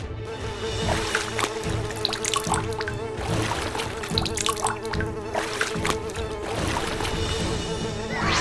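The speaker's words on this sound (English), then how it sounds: "Time to water my plants." Plants being watered in a LEGO farm scene, with water pouring and splashing steadily at moderate loudness and brief busy bursts over a constant background hum.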